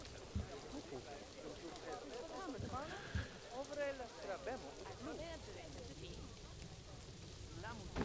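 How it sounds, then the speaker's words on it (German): Rain falls in the zoo-building game Planet Zoo as a steady, dense patter, with a person talking over it throughout. "Ah, es regnet leider."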